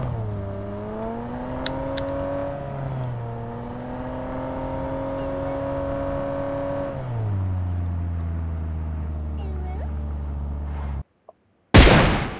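A car engine drones steadily as it drives uphill in PUBG Mobile. Its pitch drops abruptly a few times like gear shifts before cutting out, followed by a brief loud burst.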